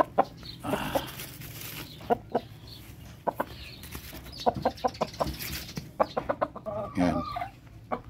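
Gamefowl stag and other chickens cluck in short, irregular bursts close by in a small breeding space, with several sharper calls toward the end.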